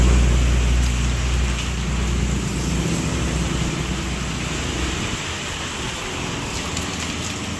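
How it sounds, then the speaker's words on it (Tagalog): Heavy rain with strong wind, a dense and steady hiss of downpour with a low rumble that fades slightly early on, loud and continuous, with no talking. "Grabe po ang lakas ng ulan."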